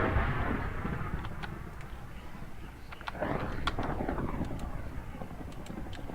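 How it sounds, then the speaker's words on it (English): A loud, rumbling thunderstorm in Minecraft rolls on continuously, with deep booming thunder and a crackling, hissy texture throughout. "Wow, that is a really loud thunderstorm."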